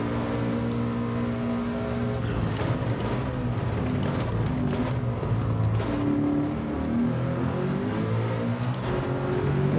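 A race car engine in Gran Turismo, revving hard on turbo boost around a circuit, a steady loud roar with tonal harmonics climbing and shifting through gear changes and short shifts over the whole stretch.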